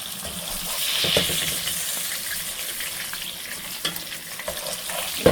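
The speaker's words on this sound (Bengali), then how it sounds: "মাছটা ভাজা হয়ে গেল বন্ধুরা, এখন তুলে রাখবো।" Hilsa fish fries in a pan with a steady, moderate sizzle and crackle, with a few sharper pops and faint stirring. No one speaks over it.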